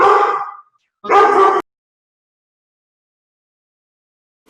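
A dog barks or yips twice in quick succession, close and fairly loud, followed by silence and a faint click at the end.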